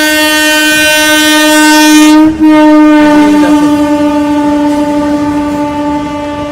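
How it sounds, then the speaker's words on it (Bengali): A train rolls very slowly through Thakurnagar station toward Bongaon amid crowds at the Baruni fair. Its loud, close horn blares almost continuously, breaking once for a moment, with faint rail rumble underneath. "আর ট্রেন একদম ধীর গতি।"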